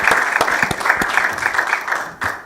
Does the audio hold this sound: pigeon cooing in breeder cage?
no